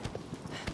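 Horse hooves clip-clopping in the video game Shadow of the Colossus, a short run of quick, moderately close thuds over a low game background.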